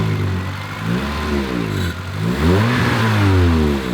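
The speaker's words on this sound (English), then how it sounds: "as you can hear, got an exhaust leak." A Pontiac with a disintegrated gasket between the exhaust pipe and muffler revs up and settles back twice, the engine loud and close with a raspy, leaking exhaust note rising and falling through each rev.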